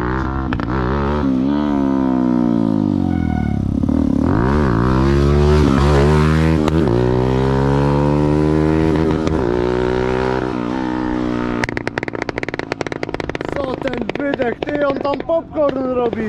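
Badly tuned carburettor on a Polish Star-era motorcycle engine, revved hard so it sputters, cuts out and pops; loud close engine tones rise and fall, then break into choppy stuttering bursts near the end.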